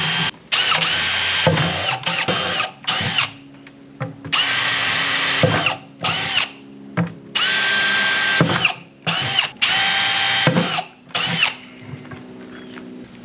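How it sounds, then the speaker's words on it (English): Power drill boring holes through the bottom of an old bucket, whining in about a dozen loud bursts of varying length separated by short pauses. "Find you an old bucket you got laying around and start getting some holes in the bottom."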